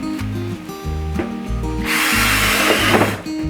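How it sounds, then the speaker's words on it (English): A power drill with a half-inch bit whines and bites through material, boring drainage holes in the bottom of a container. Its short, loud burst of grinding rises over steady background music. "we're gonna drill a couple holes in the bottom to help drain water if it gets in there"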